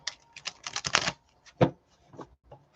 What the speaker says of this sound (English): a full-size deck like this one is hard as fuck for me to shuffle